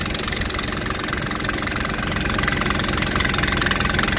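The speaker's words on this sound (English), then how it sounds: "It's got a little Briggs Briggs & Stratton pump down here." A small Briggs & Stratton engine drives a farm pump moving liquid starter fertilizer from a big tank, running steadily with a loud, close, even drone and rapid knocking pulse throughout.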